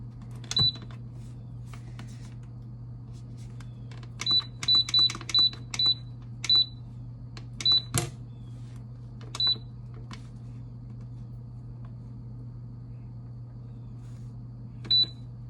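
Button presses on a crockpot slow cooker being set in a kitchen, each answered by a short, high electronic beep, sometimes in quick clusters and sometimes alone, over a low steady hum.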